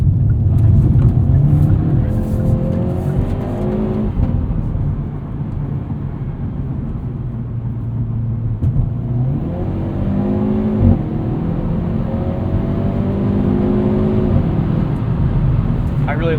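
A 2021 Hyundai Veloster N with a dual-clutch transmission in N mode with stiff suspension drives through corners, its engine droning steadily inside the cabin and rising and falling in pitch with shifts, while a person talks throughout.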